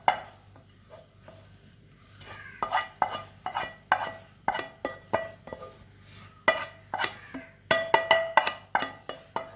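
Unniyappam batter with banana being mixed in a bowl, a series of close, irregular wet slaps and clinks of a spoon against the vessel, quiet at first and then busier and more rapid.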